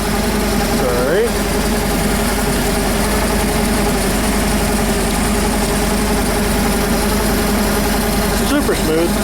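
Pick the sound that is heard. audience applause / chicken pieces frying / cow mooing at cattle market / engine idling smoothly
engine idling smoothly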